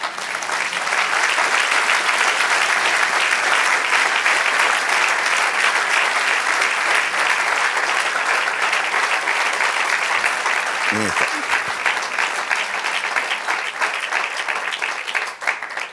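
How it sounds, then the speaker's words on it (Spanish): Sustained applause from a church congregation honoring the Lord, loud and steady throughout, with a brief voice or shout near the end. "Eso merece un aplauso al Señor."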